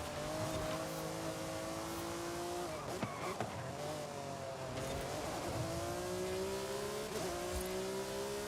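Racing car engine in a video game, steady loud drone with rising and falling revs through gear shifts and brief tire squeal, continuous throughout with no talk.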